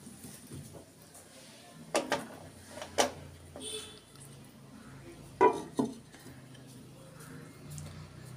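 A bowl of dhokla batter is set into a pot of boiling water and covered, producing a few sharp metallic clinks and knocks spread out over quiet kitchen background.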